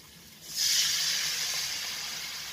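Tamarind sour water poured into a hot pan of Sindhi vegetable curry with curry leaves, breaking into a loud, steady hiss and sizzle that starts abruptly and slowly eases off, with no talk.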